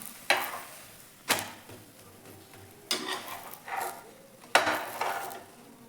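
Chana dal cheela frying in an oiled pan, a soft steady sizzle broken by four sharp clanks and scrapes of a spatula against the pan.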